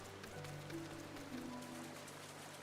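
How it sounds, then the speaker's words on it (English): Soft, even rainfall in Final Fantasy XIV patters faintly as a low, continuous background hiss with no one speaking. "Oh, and it's raining."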